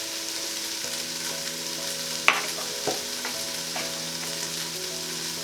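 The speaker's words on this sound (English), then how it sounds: "So give that a quick stir." Chili powder and cumin being stirred in a frying pan with beans and lentils, a steady close sizzle with scraping stir strokes and one sharp clack of the utensil against the pan.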